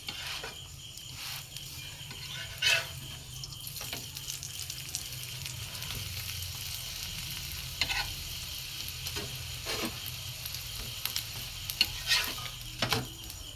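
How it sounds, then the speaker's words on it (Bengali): Egg-stuffed paratha fries in a little white oil on a nonstick griddle, giving a steady close sizzle throughout with occasional brief clinks and scrapes of stirring or turning. No voices are heard. "ননস্টিক একটা চাটুতে করছি আমি অল্প অল্প করে একটু তেল দেবো সাদা তেল মানে সাদা তেল নিয়েছি কম তেলে ভাজবো আমি"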